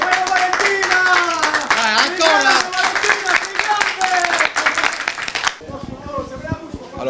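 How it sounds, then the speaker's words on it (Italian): Hands clap in a loose, uneven burst at an outdoor street market in Bari, mixed with loud voices talking over them, then the clapping drops away and a quieter, scattered background takes over near the end. "un applauso"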